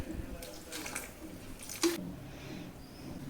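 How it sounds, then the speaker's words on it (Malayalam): Vinegar is poured into a gooseberry (amla) pickle after the stove is switched off, giving a short, soft liquid splash and trickle against a quiet kitchen background. "ഇച്ചിരി വിനാഗിരി ഒഴിക്കുക."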